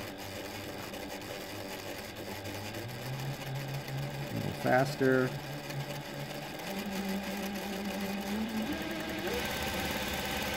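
A Reliable SewQuiet 6000SM motor drives a Juki DDL-8700 industrial sewing machine with a steady close-up hum and whir. Its pitch rises partway through as the speed picks up, and a person speaks briefly over it.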